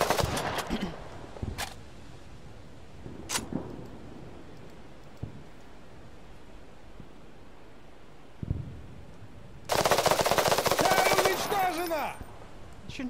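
Gunfire in the video game Fog of War: scattered single shots early, then a dense, loud burst of automatic fire near the end, with a player speaking between the shots.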